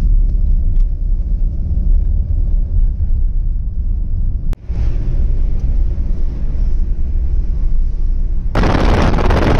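A car drives at night on the way to an airport, its engine and road noise making a steady low rumble from inside the vehicle, briefly cut by a sharp click and ending in a louder burst of broadband hiss.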